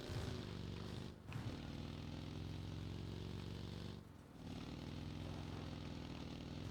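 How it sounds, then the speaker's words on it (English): A motorcycle engine in PUBG on Xbox One X drones steadily and fairly close, with a rough, even hum. It dips briefly twice before it settles back to the same level. "Oh no, that's a motorcycle."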